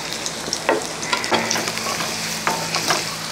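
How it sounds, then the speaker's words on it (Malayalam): Chopped garlic and ginger fry in hot oil for a Kerala-style raw mango perattu, giving a steady close sizzle with occasional stirring scrapes and no talk. "എണ്ണ ചൂടായതിനു ശേഷം ആ വെളുത്തുള്ളി അങ്ങോട്ട് ഇടാം"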